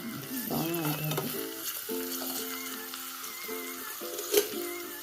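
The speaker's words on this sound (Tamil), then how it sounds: "ஆனியன் வந்து நல்லா ப்ரௌன் ஆகிட்டாரு" Onions browning in a pan for veg biryani in a miniature kitchen, a steady low sizzle running beneath faint tonal music, with a brief louder crackle near the end.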